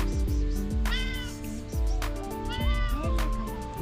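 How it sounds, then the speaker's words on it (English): A hungry cat begging for food meows repeatedly at close range, several rising, drawn-out cries over background noise, recorded on a motorcycle tour through the Greek mountains. "Wow, nice cat."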